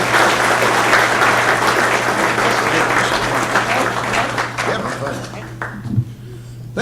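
An audience claps warmly for speaker Neil Zurcher at an evening event at the Hudson Library, giving steady, dense applause for several seconds before it thins out near the end.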